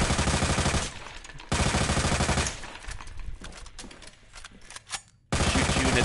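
Gunfire in the game Resident Evil 2 Remake, loud rapid bursts of shots in several bursts separated by quieter gaps with scattered single impacts.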